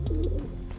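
A pigeon in a loft gives a short, low, close coo, soft and throaty, over a quiet background.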